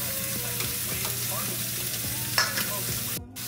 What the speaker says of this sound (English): I'm just gonna saute them somehow, maybe in some salted butter